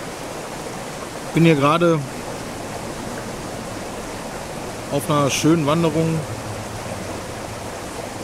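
A mountain stream flows beside a rest spot on a hike, its steady rushing hiss running throughout while someone speaks German over it in two short bursts.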